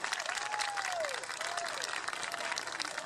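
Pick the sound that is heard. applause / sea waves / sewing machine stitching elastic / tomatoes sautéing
applause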